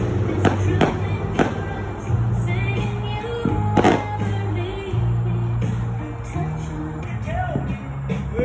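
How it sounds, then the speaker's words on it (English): Fourth of July fireworks go off in the distance as scattered sharp booms and pops at irregular intervals over a steady low background hum. "fireworks in the background"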